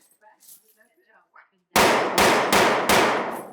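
Four loud, sharp gunshots in quick succession during vehicle gunfight training, each ringing out briefly, preceded by faint murmuring.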